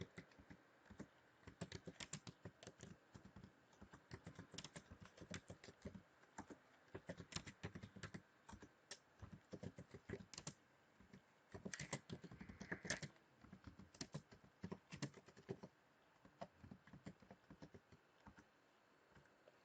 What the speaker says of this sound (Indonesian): di sini saya langsung saja mengetik passwordnya